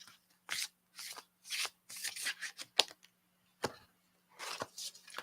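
Tarot deck being shuffled by hand nearby, a series of short, crisp riffling bursts separated by brief pauses.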